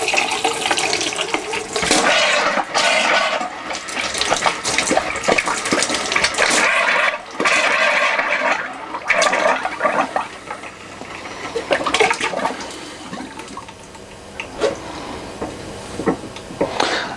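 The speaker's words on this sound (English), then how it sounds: "that's the first tap drained out" Water and air sputter and gush noisily from a tap while a static caravan's water system is drained down, a loud, continuous splashing hiss with irregular bursts and surges throughout.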